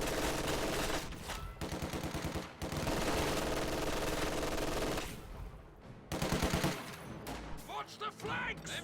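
Machine gun fire from a strategy video game match with grenadiers on the field: loud, dense bursts that rattle on for long stretches, broken by a few short pauses.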